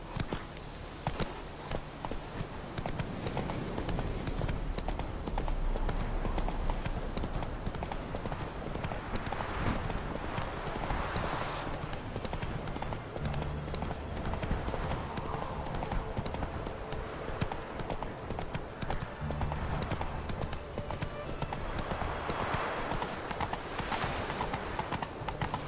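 Horse hooves clip-clop steadily in The Witcher 3: Hearts of Stone, a continuous even walking rhythm with a low ambient game background and brief speech.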